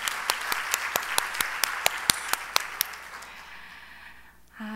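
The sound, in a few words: congregation applause for God's glory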